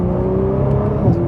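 Nissan GT-R 50th Anniversary Edition engine pulling hard under acceleration, a loud, steady droning roar with a rising whine, close and continuous for a moment with no talking.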